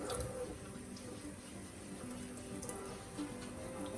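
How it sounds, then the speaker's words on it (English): Steady hiss of water spraying on a houseplant, continuous and fairly close, with faint dripping and splashing throughout. "and we'll spray her off"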